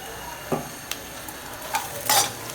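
Sliced ivy gourd frying in a pan with salt and turmeric is stirred, giving soft scrapes and a few brief clatters over a faint, steady sizzle.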